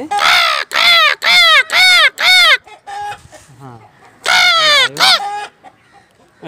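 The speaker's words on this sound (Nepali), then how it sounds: "कति धेरै काग आयो अहिले है" A flock of crows caws loudly and close by, a quick run of five harsh calls followed by fainter chatter, then another pair of caws.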